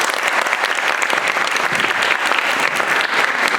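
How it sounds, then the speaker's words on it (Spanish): A dense, loud burst of audience applause fills a lecture hall to welcome a speaker, sustained evenly throughout with no talk over it. "le ofrecemos un aplauso"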